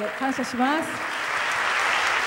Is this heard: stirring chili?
no